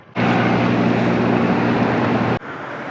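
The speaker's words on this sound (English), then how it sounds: "Sorry, we got a helicopter, I gotta yell." A helicopter flying overhead makes a loud, steady roar with deep droning tones for nearly three seconds, then cuts off abruptly.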